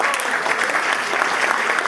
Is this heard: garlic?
no